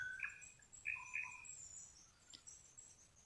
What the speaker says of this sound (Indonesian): Sangat menarik, suara burung